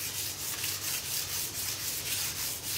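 Hemp finishing oil is rubbed into timber with a rhythmic, close, scratchy swishing of back-and-forth strokes at an even pace, with no voices.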